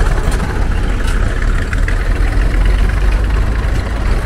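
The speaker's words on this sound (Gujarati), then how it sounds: "અહીંયા ટ્રેક્ટર ચાલે છે" A tractor engine runs steadily and close by, a loud low rumbling drone with a constant, even level.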